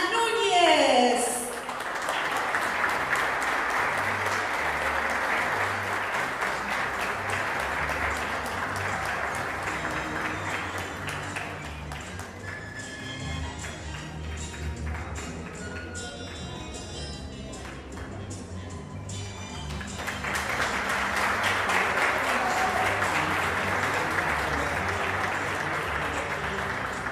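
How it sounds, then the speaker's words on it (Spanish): An audience gives a loud welcoming ovation to an artist, a carnival dancer from Villa Ángela. The clapping fades into a quieter stretch with faint tones, then swells again into full applause. "Recibimos con un fuerte aplauso a Mariana Núñez."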